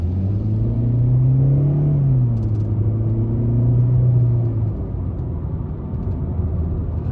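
A 2020 Chevy Spark LT with a 1.4L engine and CVT accelerates hard. A steady, loud engine drone rises smoothly in pitch, then holds and eases, heard up close from inside the car with no talking.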